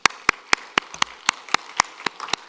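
Church congregation applauding during a Sunday service, a steady run of sharp, evenly spaced claps forming a near, rhythmic burst with no voices over it.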